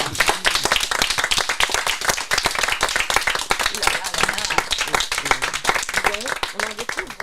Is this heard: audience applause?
yes